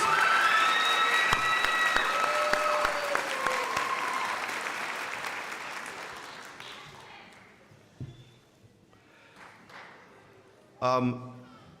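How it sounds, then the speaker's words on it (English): Crowd applause for vocational nursing graduates at a pinning ceremony, full and steady for about six seconds, then thinning to scattered claps, with a brief burst of speech near the end. "One more round of applause for the vocational nursing graduates"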